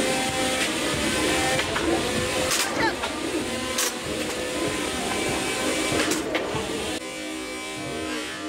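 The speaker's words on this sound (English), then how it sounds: "Nor'easter is still spinning." A combat robot's spinner weapon whirring continuously at a robot fighting competition, a loud sustained mechanical whine with a few sharp impact bursts, then dropping in level near the end, with crowd and arena noise around it.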